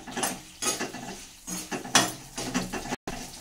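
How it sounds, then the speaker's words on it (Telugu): Dried red chillies frying in oil in a pan for a mint chutney, heard as bursts of crackling and clattering with metal scraping and stirring, close and fairly loud, a brief gap near the end. "ఎండుమిర్చి అయితే కొంచెం కలర్ వచ్చేదాకా మనమైతే వేయించుకోవాలి"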